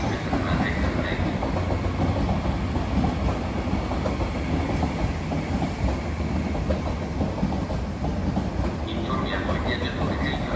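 A Trenitalia regional train rumbles steadily into a platform at Venezia Mestre station, with a rhythmic clatter of wheels on rails, loud and close, continuing without pause throughout.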